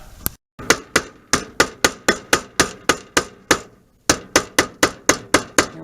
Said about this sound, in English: Here we have an action shot of my wife hammering in staples